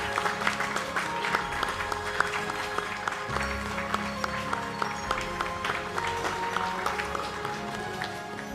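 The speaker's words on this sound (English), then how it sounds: "a round of applause." Audience applause at the Millennium Excellence Awards ceremony, 10 May 2025, a steady round of clapping running the whole stretch, with music or ambient tones beneath.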